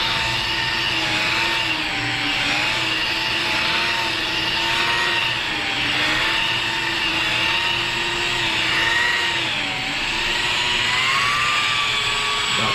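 Rotary polisher fitted with a 3M polishing pad spinning at roughly 1,000 RPM, a steady close whine and whirr with slight rises and falls in pitch as pressure changes, continuous throughout with no talking.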